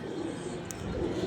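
Pigeons give a short, faint, low coo, with a tiny chirp-like sound mixed in against quiet background noise.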